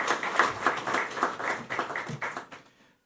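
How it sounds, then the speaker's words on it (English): Audience applause for a departing official at the opening session of a 27th COTA conference: a steady wash of clapping from a crowd, loud and sustained for about two and a half seconds before tapering off to silence. "I think we can give her a round of applause for her service to COTA during the time."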